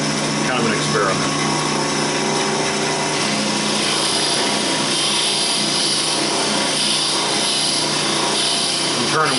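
Wood being drilled while spinning fast on a lathe during baby rattle turning, a steady continuous high whirring and rubbing hiss that runs throughout without pause.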